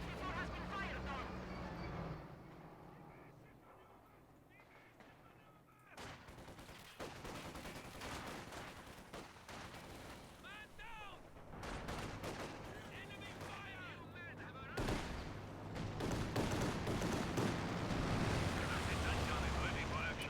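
Cannon strafes rip across a Company of Heroes 2 battle, with bursts of gunfire and heavy booming impacts rolling in waves while a caster talks over the fighting throughout.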